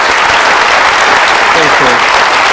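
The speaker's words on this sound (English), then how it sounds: "I hope you'll all join me in a round of applause to Attorney General Yates." Dense, loud applause from a lecture audience follows a memorial law lecture at Georgetown Law, a continuous wash of many hands clapping close by with no pauses.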